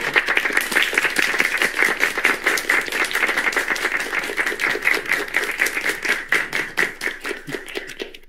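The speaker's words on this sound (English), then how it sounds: "Applaud for him." An audience applauding a governor, a dense rhythmic burst of many hands clapping steadily for several seconds before fading out at the end.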